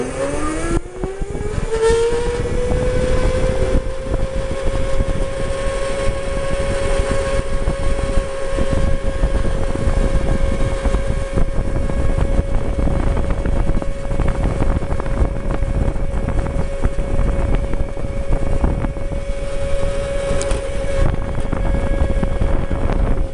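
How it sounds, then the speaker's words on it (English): DIY go-kart driven by an MY1020 48V 1000W electric motor with a TD Pro speed controller, a loud rising electric whine that settles into a steady hum, with wind rush over the microphone and no talk. "Test one of the MY1020 48 volt 1000 watt motor with the TD Pro speed controller."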